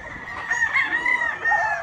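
Rooster crowing at a gamefarm, a single sustained call with a wavering, strained tone, close and fairly loud, with faint farmyard background and no talk over it.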